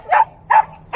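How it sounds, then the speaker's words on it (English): A small Bichon dog at a veterinary clinic gives three short, sharp yaps, evenly spaced and close by, with no talking over them. "Hey, stop barking."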